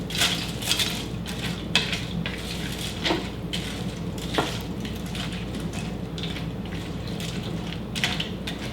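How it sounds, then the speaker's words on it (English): Noodles are stirred in a cooking pot for Beef Stroganoff, with scattered metallic clinks and scrapes over a steady low hiss of heat, faint and close. "Give that a stir."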